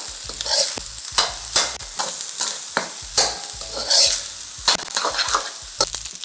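Egg fried rice is stirred and tossed in a frying pan, repeated rhythmic scraping strokes of a spatula over steady sizzling, close and loud, with no voices.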